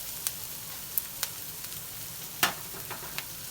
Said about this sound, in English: I did want to go ahead and add a little bit of oil to saute these onions a little bit